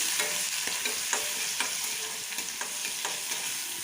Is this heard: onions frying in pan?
yes